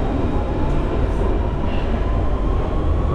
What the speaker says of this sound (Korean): 런던 지하철, 런던 지하철.